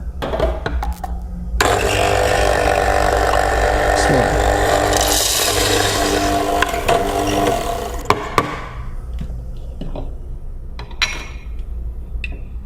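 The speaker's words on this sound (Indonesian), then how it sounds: "gue akan giling biji kopinya dulu" Coffee grinder grinding beans for espresso, a loud steady grinding whir lasting about six seconds, bracketed by clicks and knocks of handling the machine before and after.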